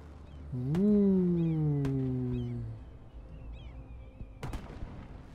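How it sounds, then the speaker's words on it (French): Fireworks in the city-building game Cities Skylines give a faint, long whistling tone that slowly falls in pitch, then a quiet pause, then a sharp crackling pop near the end. "On va regarder les feux d'artifice"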